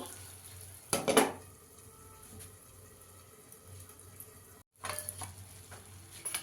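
A metal lid clatters onto a pan while an egg omelette cooks, giving a sharp clank near one second, then quiet simmering and a second softer clatter of cookware.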